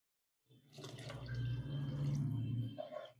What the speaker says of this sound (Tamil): 2 படி தண்ணி ஊத்தியாச்சு